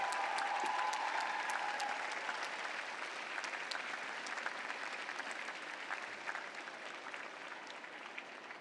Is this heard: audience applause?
yes